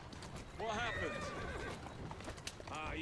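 Horses in the Victorian London streets of Assassin's Creed Syndicate give a clear whinnying neigh, then a second shorter one, over clip-clopping hooves and faint background bustle.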